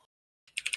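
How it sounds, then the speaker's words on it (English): A player taps a short burst of three or four quick keystrokes on a computer keyboard during a quiet gaming match, close and fairly soft after near silence. "ToaZuka typing yet again after being told 5 million times not to."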